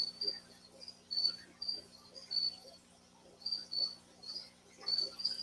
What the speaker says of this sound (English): How do I harvest my crickets for feedings without them hopping all over the house?